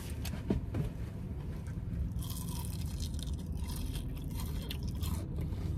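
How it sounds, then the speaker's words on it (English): Biting into a crunchy Burger King onion ring, heard up close as a brief crisp crunch followed by a few seconds of chewing and scraping texture, with no talking. "We'll come in close here for the crunch test."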